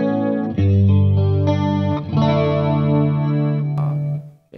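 Guitar played through a DemonFx Mini Chorus effect pedal, warm shimmering chorused chords ringing loudly and sustained, with a few changes and a final decay.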